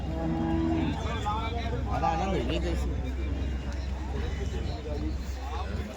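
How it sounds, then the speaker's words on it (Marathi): Tethered cows low and moo repeatedly at close range at the Chalisgaon cattle market, over a steady crowd babble and people talking nearby. "या ठिकाणी गाई बांधलेल्या आहेत"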